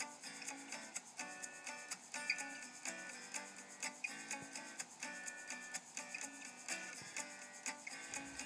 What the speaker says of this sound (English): we finished that cut, and that's a pretty square cut considering it's done with a hacksaw